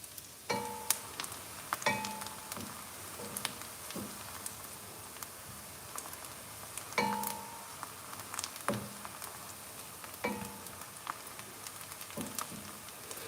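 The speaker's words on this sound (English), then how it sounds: "So now we are frying our onions." Onions frying in a pan, a soft steady sizzle with scattered pops and crackles, quiet and close, with occasional clinks of a utensil and no talk.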